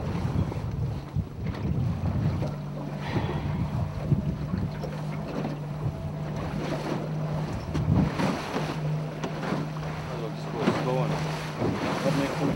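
A boat's motor drones steadily on open water during a summer beluga outing, a low constant hum under wind buffeting the microphone, with no talk.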